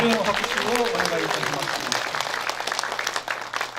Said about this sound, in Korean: 아낌없는 격려의 박수 한번 크게 부탁드리겠습니다.